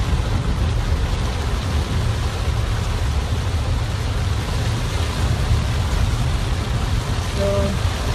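Heavy rain pours steadily during Hurricane Matthew flooding in Jamaica, a dense continuous wash that holds at a constant level throughout with no voices, and a brief faint tonal sound near the end.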